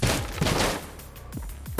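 Weapon fire in the video game Enter the Gungeon, with a crossbow running low on ammo: a quick series of sharp shots and thumps in a busy burst, with game effects mixed in.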